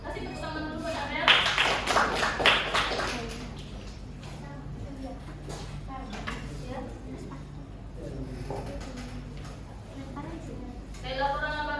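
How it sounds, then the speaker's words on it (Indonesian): A classroom of students claps for a classmate in a short, lively burst, followed by quieter scattered claps under a teacher's continuing speech. "Kasih tepuk tangan dulu buat Abel."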